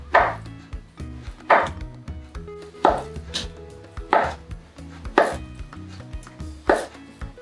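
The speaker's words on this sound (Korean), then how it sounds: "두부는 적당히 먹기 좋은 크기로 잘라주세요" A knife chopping tofu into cubes on a cutting board, six evenly spaced firm thuds about one per second, close and clear with no voices.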